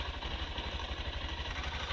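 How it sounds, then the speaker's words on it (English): A 2023 Honda CB125F with freshly adjusted valves idles steadily, its small single-cylinder engine putting out an even, low, rapid thrum with a light mechanical clatter, moderately quiet and steady throughout with no voices. "It's idling fine."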